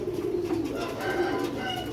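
A Sialkoti black-mouthed pigeon, a young pure-breed bird, coos in a low, steady rolling murmur that continues unbroken for about two seconds, close to the microphone with no talk over it.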